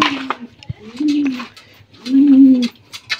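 Pet pigeons in a home bird house coo in two long, low, throaty phrases, close and loud, with light clicks and rustling between the calls.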